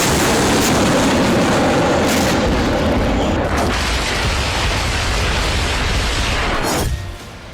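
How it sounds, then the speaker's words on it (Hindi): A powerful blast roars across a Russian anti-air missile system, a dense, sustained rumble of explosion and debris lasting several seconds, with a second burst near the end before it cuts off; no voices. "इस धमाके में रूस का एक एंटी एयर मिसाइल सिस्टम भी नष्ट हो गया"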